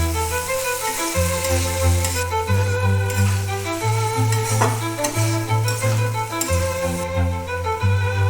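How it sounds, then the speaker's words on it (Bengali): Mashed cauliflower cooking with turmeric, salt and spices in a pan, giving a continuous close sizzle with stirring scrapes and a low steady hum running underneath; no voices. "এখন ফুলকপিটাকে মশলার সাথে ভালোভাবে কুক করে নিচ্ছি"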